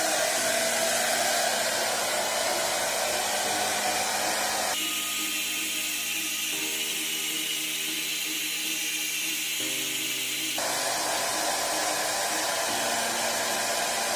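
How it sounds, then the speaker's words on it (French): A hair dryer blows steadily while drying hair that carries a colored hair piece, its loud whooshing airflow shifting in pitch and strength as the speed setting or nozzle angle changes, with no talking over it. "Vous voyez, comment je me sèche les cheveux?"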